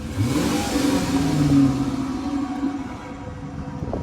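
A Dodge Charger R/T with muffler and resonator removed revs up loud and close, the raw exhaust note rising then easing back toward idle.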